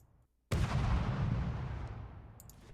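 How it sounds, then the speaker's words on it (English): A sudden roaring whoosh of missiles launching from a vehicle in a battle game, bursting in after near silence and sustaining a broad, rumbling rush that slowly fades, with faint high ticks near the end. "There go the missiles."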